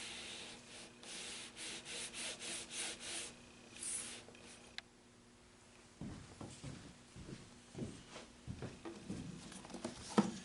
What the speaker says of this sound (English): I'm using my bone folder to get into that space on both sides